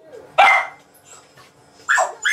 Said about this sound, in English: She doesn't normally bark at home.